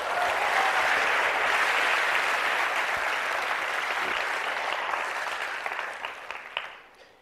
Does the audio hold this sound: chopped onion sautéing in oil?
no